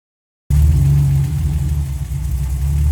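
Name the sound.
TVR 280S car engine starting and idling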